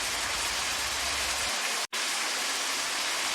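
Steady broadband rush of water flowing through a forest, loud and continuous, with a brief dropout near the middle and no voices.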